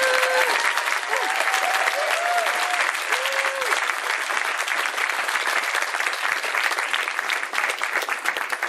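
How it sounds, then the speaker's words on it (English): A convention audience gives staff a round of applause at furry con opening ceremonies, dense continuous clapping from a large crowd that holds steady throughout, with a few faint whoops. "Give them a round of applause."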